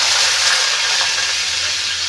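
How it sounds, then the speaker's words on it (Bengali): Sliced onions frying in a wok with cumin seeds, a continuous loud, even hiss and sizzle, close by with no talking. "তো এই যে পেঁয়াজটা ভাজা হোক"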